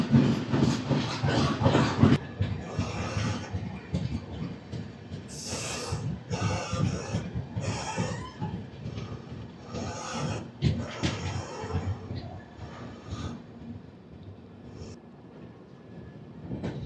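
The Narayanadri Super Fast Express, Lingampalli to Tirupati, runs along from onboard with a continuous rumble and rhythmic clickety-clack of the wheels, loud and close, easing into a steadier roll after the first couple of seconds.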